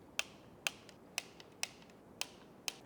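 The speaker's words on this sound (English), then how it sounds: "Now we can torque our servo motor to 10 Newton meters." A wrench clicks six times at a steady pace while bolts on the servo motor of a BMW N55 engine are torqued, each click sharp, metallic and close, with quiet gaps between them and no voices.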